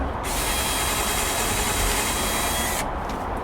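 A power drill bores a hole into wood while a solar security light is mounted, whining at a steady loud pitch for nearly three seconds before stopping, close by and with no talking.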